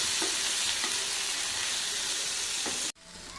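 Chopped tomatoes being sautéed and stirred in a hot pan for prawn masala, a steady broadband sizzle with a few soft stirring knocks, close and continuous until it cuts off abruptly near the end.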